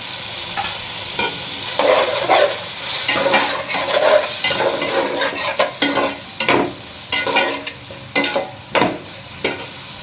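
Chicken with peas and chopped carrot stirred in a hot pan, with a steady sizzle of frying and a series of rhythmic scraping spoon strokes that come close and fairly loud. No one speaks.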